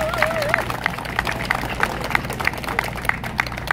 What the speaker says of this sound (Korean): 우리 이렇게 멋진 회원님들을 위해서라도 사랑의 박수 크게 한번 쳐주십시오